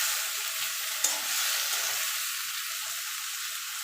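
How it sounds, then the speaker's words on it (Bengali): Vegetable stalks stirred in a pan of oil for a light fish curry, a soft steady sizzle with faint scraping, one brief clink near the start, no talking. "ডাঁটাটা দিয়ে মিনিট খানিক একটুখানি নাড়াচাড়া করে নিয়েছে"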